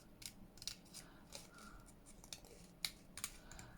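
Scissors snip paper for a junk journal, a series of close, crisp cuts in an irregular rhythm with short pauses, heard alone in a quiet room.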